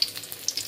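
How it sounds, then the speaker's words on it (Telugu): Slit bitter gourds fry in hot oil with a brief, steady sizzle and a few light pops, with no voices. "కాకరకాయల్ని ఫ్రై చేసుకోవాలి"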